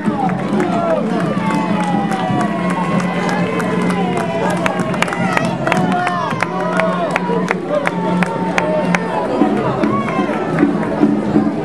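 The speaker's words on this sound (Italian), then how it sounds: "Un applauso a Bruno." A crowd at an outdoor award ceremony during the Sassari Mini Candelieri festival keeps up a dense, continuous patter of clapping mixed with cheering and chatter, loud and close throughout.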